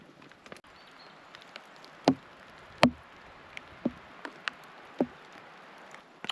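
Rain falls on a tarp at a woodland camp in the woods, heard as scattered, fairly loud drops that thud and tick against the fabric at irregular moments over a faint background hush, with no voices.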